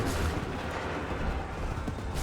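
A musket volley in Assassin's Creed III: a dense, rumbling roar of many shots fired together, loud and sustained, with a booming low end rolling on for a couple of seconds and no voices over it.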